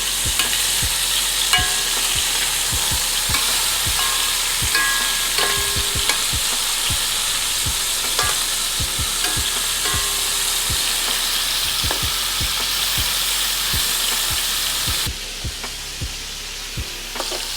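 Beef for crispy tacos sears in a hot pan, giving a loud, steady sizzle that carries on without a break, with frequent sharp clicks and scrapes of the meat being moved and turned.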